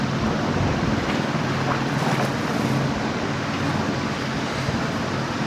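Water placed in Minecraft, a steady, loud rushing wash of flowing water that continues unbroken and alone throughout.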